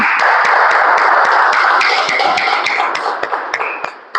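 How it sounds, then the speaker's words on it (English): Audience at a club meeting gives a big round of applause for MBJC members: dense, sustained clapping from many hands in a room, steady and loud, thinning slightly toward the end with a few distinct sharp claps. "give a huge round of applause for the members of MBJC"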